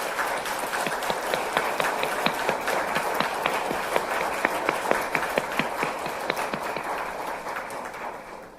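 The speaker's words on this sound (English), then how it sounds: "maybe another big round of applause for Prime Minister Rasmussen" An audience claps for Prime Minister Rasmussen at a political event, a steady round of applause with distinct individual claps, fairly close and tapering off at the end.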